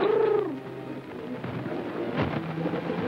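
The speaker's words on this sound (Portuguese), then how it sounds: "Tenho esses pombos há tanto tempo." Pigeons coo in soft, low repeated calls at close range, a short mellow phrase at the start followed by quieter cooing under a steady background hum.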